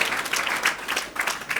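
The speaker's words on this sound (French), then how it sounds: "Ils vont s'applaudir très très fort maintenant." An audience applauds innovative business projects after pitches at an entrepreneurship competition, with dense, steady clapping throughout and a brief dip in the middle.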